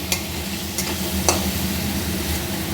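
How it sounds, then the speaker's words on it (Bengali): Drumstick stalks and vegetables frying with spices in a pan hiss in a steady, close sizzle, broken by a few short scraping strokes of a stirring spoon, with no speech. "সজনে ডাটাটা দিয়ে দিলাম এর সাথে একবারে কষিয়ে নেবো"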